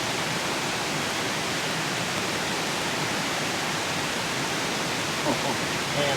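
Boiling water poured into a vegetarian lasagna pouch outdoors, a steady close hiss of pouring that stays even throughout.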